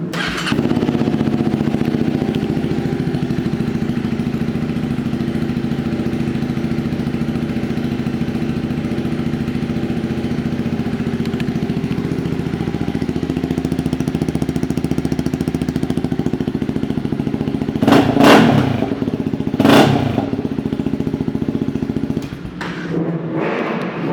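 A 2018 Honda CB300F ABS motorcycle engine runs steadily at a close, even idle, with a couple of brief revs or sharper bursts near the end.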